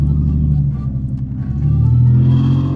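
A V6 truck engine and exhaust give a loud, deep rumble from inside the cab while driving, swelling slightly toward the end as it pulls.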